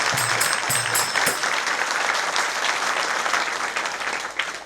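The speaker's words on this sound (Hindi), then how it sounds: "बजाओ एक ताली जोर से।" Loud, dense applause from an audience at a spiritual discourse, several sharp claps standing out at the start before the clapping settles into a sustained, even roar that continues throughout.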